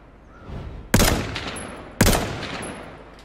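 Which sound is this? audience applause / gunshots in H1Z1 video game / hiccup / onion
gunshots in H1Z1 video game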